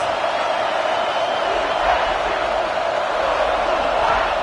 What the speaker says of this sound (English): These fans are going absolutely nuts.